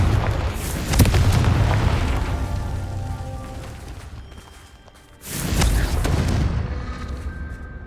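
Two loud, booming Confringo spell explosions from Hogwarts Legacy go off a few seconds apart, each a sharp burst that rumbles and slowly fades.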